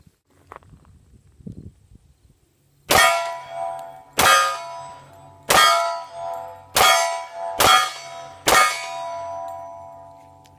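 Six shots from a Smith & Wesson M&P Shield 45 pistol, loud sharp reports spaced about a second apart, each followed by a brief ringing metallic tail, preceded by faint handling noise.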